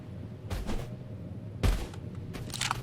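Three separate sharp bursts of gunfire ring out in Totally Accurate Battlegrounds, each a loud crack with a short ringing tail, spaced about a second apart with no talking.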